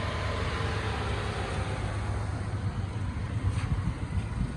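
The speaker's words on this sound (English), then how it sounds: "You hear the engine." A Chrysler 300C John Varvatos Edition idles or cruises with a steady low engine rumble, an even, continuous hum heard from inside the car with faint wind noise and no talking.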